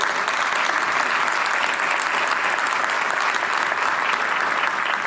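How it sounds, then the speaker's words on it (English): A crowd at a city State of the City event applauds council members with steady, dense clapping that stays loud and even for the whole stretch. "if we can give them a round of applause"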